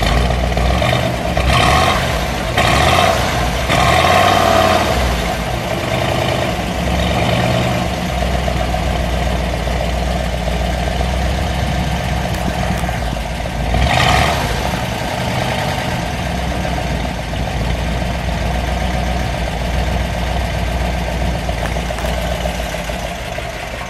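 A 1956 Mercury Montclair convertible's engine idles steadily, a loud, continuous low rumble that holds level throughout with a slightly uneven pulse, heard alone without talk.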